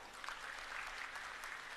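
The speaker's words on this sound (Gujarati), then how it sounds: "એકવાર આપના માટે તાળીઓ થઈ જાય દોસ્તો" Applause from an Aam Aadmi Party rally audience in Surat, a steady broadband wash of clapping at moderate distance, fairly faint and continuous throughout.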